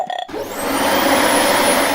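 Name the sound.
vacuum cleaner running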